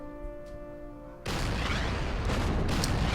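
A coastal fortress naval gun fires in the wartime strategy game Order of Battle: Pacific, a single heavy booming blast that cuts in abruptly after a quiet musical intro and rumbles on loudly to the end.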